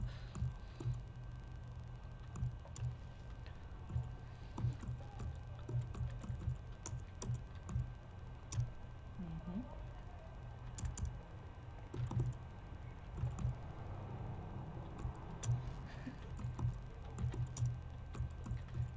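Steady typing on a computer keyboard runs throughout, with dense irregular clicks over a low room hum and no voices.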